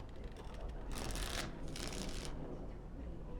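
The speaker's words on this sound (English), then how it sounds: "Before we start, the cards must be shuffled." A deck of cards is shuffled twice in Dragon Age: Origins, two quick riffling bursts close up over a quiet background.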